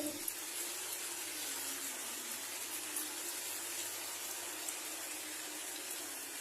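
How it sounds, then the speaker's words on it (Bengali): Water is poured into a pan of aloo posto, potatoes mixed with ground poppy seed paste. A steady, soft hiss runs unbroken for several seconds, with no talking over it. "একটু জল দিয়ে দিতে হবে"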